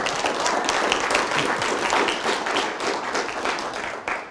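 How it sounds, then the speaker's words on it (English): A dense, loud round of applause from an audience at a city State of the City event, many hands clapping steadily without a break. "So give him a round of applause."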